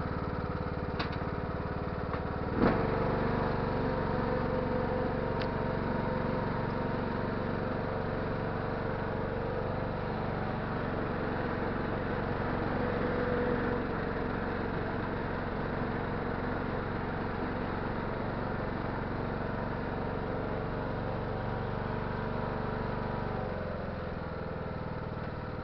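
A ride-on lawn tractor mower's engine catches with a thump and then runs at a steady, even drone, close by and alone, before easing down at the very end.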